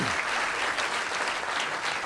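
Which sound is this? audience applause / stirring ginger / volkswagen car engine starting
audience applause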